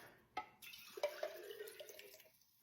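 Sauce shaken out of a container and poured into an Instant Pot while making beefy spaghetti, a soft liquid trickle and splash with a few drips, close and fairly quiet.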